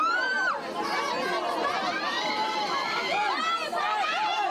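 A crowd of Parañaque residents shouts and jostles around a Maynilad water tanker at night during water rationing, overlapping raised voices and chatter filling the scene continuously at close range.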